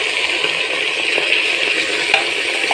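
Assamese lai shak khar is stirred in a pan as it cooks, with a steady close sizzle and faint scraping under it.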